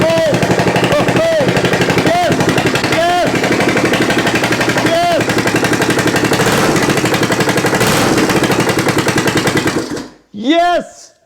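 A 1972 Honda CB350 cafe racer motorcycle engine is jump-started and runs loud and close with a rapid, harsh, popping exhaust rhythm for about ten seconds, then cuts off, followed by an excited voice.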